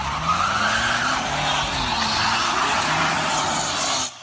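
A car drifts on a snowy road, its tires skidding and squealing in one loud, continuous slide over engine noise, which cuts off abruptly at the end.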